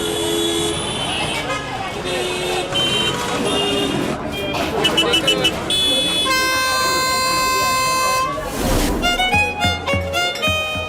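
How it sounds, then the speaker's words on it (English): Many vehicle horns of different sizes and pitches honk over busy Mumbai street traffic, with trucks, buses and bicycles about; long sustained blasts and shorter toots overlap continuously and loudly. "Big horns and small horns of every size and note. For every vehicle in a city that loves to honk."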